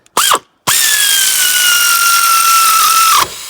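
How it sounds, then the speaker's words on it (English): An air tool runs on a Mini Cooper S R53 crank pulley bolt, giving a loud, close, high-pitched whine. A brief burst comes first, then a sustained run of about two and a half seconds that slowly drops in pitch before cutting off. "Go ahead and install it with this air tool."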